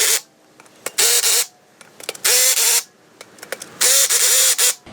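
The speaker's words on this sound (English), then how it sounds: "I can slowly move up on this particular screw gun" Cordless screw gun driving screws into a hot tub pump housing, set low at about 14 to 15 torque: three loud, sustained whirring bursts close up, each about half a second to a second long, with short clicks and handling noise in the pauses.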